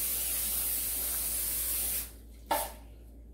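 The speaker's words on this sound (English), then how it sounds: "So for this one, I'm going to spray it and use the wax paper" Cooking spray hisses into a baking pan for a Jamaican cornmeal pudding, a steady spray lasting about two seconds, then stopping, followed by two quick short bursts.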